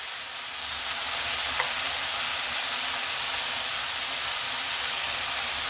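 Vegetables for a vegetarian Bengali pumpkin ghonto, seasoned with salt and turmeric, sizzle and fry steadily in a pan while being stirred, a continuous close hiss throughout.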